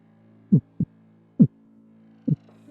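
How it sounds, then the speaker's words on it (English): Heartbeat sound effect: four soft, low thumps in an uneven pulse over a steady low hum, clear and close with no talk. "Sorrel, give me that heartbeat."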